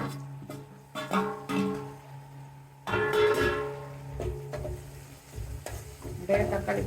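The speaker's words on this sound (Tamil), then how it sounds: "தக்காளி போட்டு கொஞ்சம் லைட்டாக வதங்கி விட்டுறோம்" Onions and tomatoes sauté in a pan for a Sunday non-veg meal, with a spoon scraping and stirring in bursts over a steady close sizzle.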